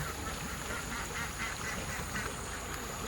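Ducks quacking near a rainy lake shore, a family of them, with steady rain-like background noise throughout and broadband hiss; the calls are faint and mixed into the wash rather than standing out clearly.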